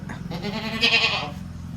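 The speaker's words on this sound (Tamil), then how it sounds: "இந்த ஆடு உள்ளே கட்டியாக இருக்குது, அதான் கத்துது." A goat tied up indoors lets out one loud, close, wavering bleat lasting about a second, over a steady low background hum.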